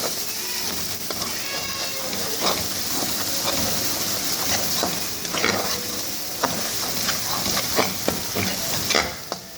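Salt, chilli and turmeric are stirred into masala frying in a pan for dhaba-style chana daal, with soft sizzling under repeated scraping strokes of a spoon, close and moderately loud.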